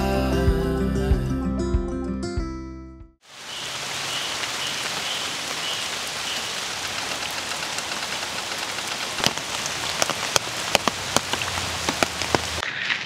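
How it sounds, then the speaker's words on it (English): Music plays briefly and then cuts out. Steady rain follows at Oastler Lake Provincial Park, pattering loudly and closely on a surface, with scattered heavier drops tapping through the hiss. "So it's been raining a lot."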